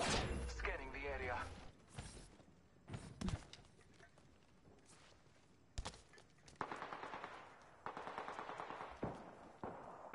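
Gunfire in the video game Anthem: bursts of rapid automatic shots and single sharp cracks spread across the clip, loud and close, with a voice talking at the start.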